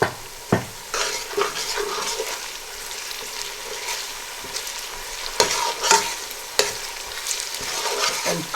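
Ginger garlic paste fries with golden onions in a pot, giving a steady sizzle broken by sharp stirring scrapes and clanks, close and fairly loud.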